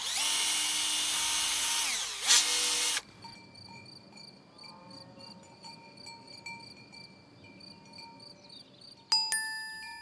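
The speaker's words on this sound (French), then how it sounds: "je perce un trou d'un diamètre de 5 mm pour planter ma graine" Power drill boring a 5 mm hole in garden soil to plant a seed, a loud high whine for about three seconds before stopping, followed by quieter handling noise, then a short sharp drill burst near the end.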